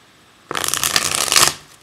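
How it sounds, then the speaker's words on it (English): A quick riffle of tarot cards being shuffled up close, a crisp fluttering burst lasting about a second before fading. "just so you can see the shuffling"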